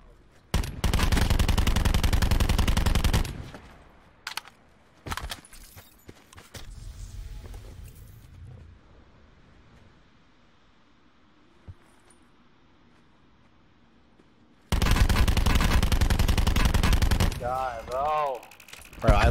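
A GKS submachine gun fires in a video-game match in long, loud bursts of rapid automatic fire. The bursts come in three separate stretches, with quieter in-game noise between them.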